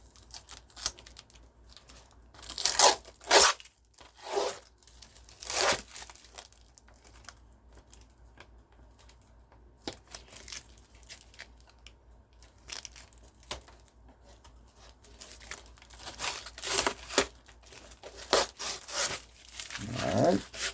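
Tape and rubber bands are peeled and tugged off Hot Wheels packaging close by, making irregular bursts of crinkling, rubbing and scraping separated by quiet pauses, with no talking.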